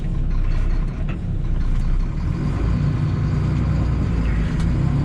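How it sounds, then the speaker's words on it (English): An underpowered 2000 Volvo truck engine drones steadily under load with a faint whine, close by, and no talking. "if you hear it whining more, that is purely because it is kind of an underpowered truck"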